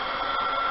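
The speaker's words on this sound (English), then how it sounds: "so-called blow dryer." A handheld blow dryer blowing over fresh resin art to clear bubbles, giving a steady, loud, unbroken whoosh of airflow with no pauses.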